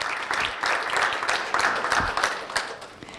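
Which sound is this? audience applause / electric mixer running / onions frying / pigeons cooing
audience applause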